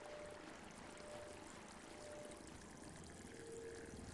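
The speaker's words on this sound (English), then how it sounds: "That's some impressive water for 2004." Flowing water in Star Wars KOTOR 2, a steady, fairly faint rushing stream with a constant broadband wash and a faint tonal hum, no voices.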